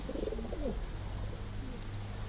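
Adana domestic pigeons cooing, several soft low throaty coos close by over a steady background rumble, with no voices.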